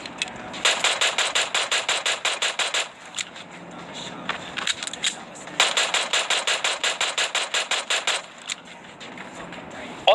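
Two long bursts of rapid automatic M249 machine gun fire in a video game, each a fast run of sharp cracks separated by a short lull and a few scattered shots.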